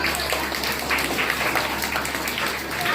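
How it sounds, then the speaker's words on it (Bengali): Crowd applause for a winner at a dance competition prize distribution: a steady, dense patter of many hands clapping at moderate distance, unbroken for the whole few seconds. "জোরে হাততালি হয়ে যাক।"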